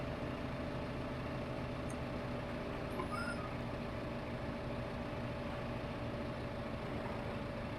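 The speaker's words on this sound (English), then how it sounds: "And there you see why I like using this tractor for this job." A farm tractor runs steadily while turning in tight circles, giving a constant low, rumbling drone at moderate distance with no breaks and no voices.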